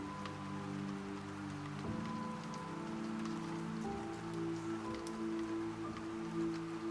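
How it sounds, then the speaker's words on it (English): Rain taps steadily against window glass in a soft, continuous patter, with a gentle sustained tonal hum underneath. "You listen to the rain tapping the glass, and it becomes a simple sound to float on."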